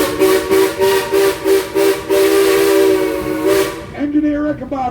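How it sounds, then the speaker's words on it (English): An engineer blows a train's steam whistle in a series of loud, short rhythmic blasts that run into a long sustained tone, then a lower, breathier final note. "Engineer Ichabod, why are you blowing that whistle, son?"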